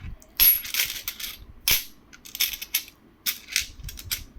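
Commemorative coins for the 125th birth anniversary of Prasanta Chandra Mahalanobis being handled, with sharp metallic clinks and light jingles coming in scattered bursts, close up, with no talking.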